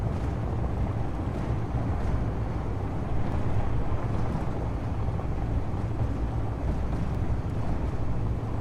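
A large rover in the video game Space Engineers drives over rugged ground, giving off a steady, loud, unbroken rumble of engine and terrain noise with no talking.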